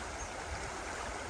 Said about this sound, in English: I just want to see what the river is like here